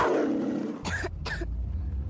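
A child coughs twice in a radio commercial for Dayquil Kids, two close, harsh bursts standing out near and loud over a low background bed.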